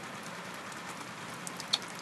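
Steady rain falls at Lido lake, a soft continuous hiss with a few faint droplet ticks, even and fairly quiet throughout.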